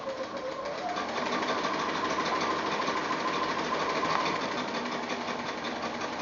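Home sewing machine stitching fabric pieces of a quilt block, a steady fast mechanical whirring hum running continuously at close range without a break.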